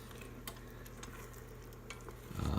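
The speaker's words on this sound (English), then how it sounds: "when you drag the spoon through it" A spoon drags slowly through thick risotto rice with chicken, saffron and peas cooking in an Instant Pot, a soft steady scraping and bubbling that swells louder near the end.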